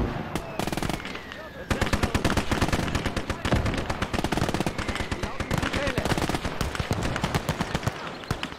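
Heavy automatic gunfire in the video game Gates of Hell, close and loud, as rapid machine-gun bursts and single shots run almost continuously, with a sharper blast early on. Voices shout in German over the battle.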